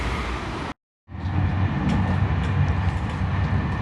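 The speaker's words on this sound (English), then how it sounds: "As you can probably tell from the sound, I'm back on a train." Inside a moving train carriage, a steady loud rumbling roar with faint rhythmic rail clatter, broken early by a brief drop into silence before the noise returns.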